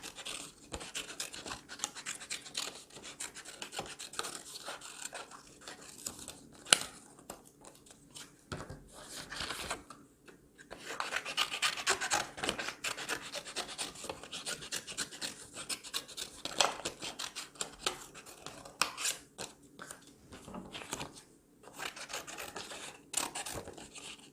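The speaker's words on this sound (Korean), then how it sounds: "필요한 만큼의 그림을 그려서 종이를 잘라줍니다" Scissors cut paper for a handmade pop-up book, a long run of close, dry rasping snips and rustling paper with brief pauses and no talking.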